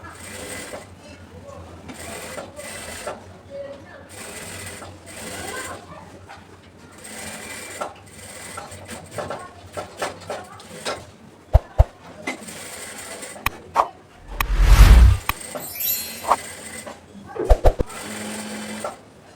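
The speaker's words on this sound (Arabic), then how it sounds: "دابا غادي نعاود الخياطه الثانيه، غادي ندير جوج خياطات." A sewing machine stitching fabric while a long bodice and trousers are tailored, running in steady close bursts with a few louder mechanical clunks, and a voice speaking now and then.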